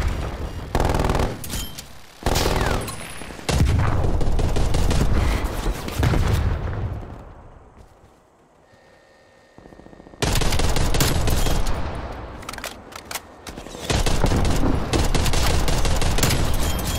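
Sentry turret gunfire in the video game Call of Duty Black Ops Cold War: loud rapid automatic bursts with booming impacts, a quieter gap in the middle, then sustained firing resumes.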